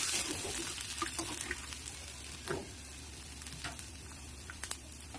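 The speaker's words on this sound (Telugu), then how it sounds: "మంచిగా ఫ్రై అవ్వాలి అల్లం అయితే" Thinly sliced ginger frying in tempering oil for curd rice gives off a soft, steady sizzle. A few faint clicks and light stirring sounds come through, with no one talking.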